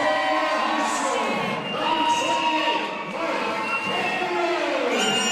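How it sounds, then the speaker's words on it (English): A home crowd at a high school hockey game cheers and shouts in a large rink, loud and sustained with whoops and children's yells rising and falling, while an announcer talks over it. "Big Campione crowd here tonight, it sounds like."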